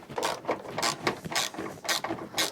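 A hand ratchet clicks rapidly in quick back-and-forth strokes, up close, while bolts are tightened on a DD Customs fairing relocation bracket on a 2016 Harley-Davidson Road Glide; no speech.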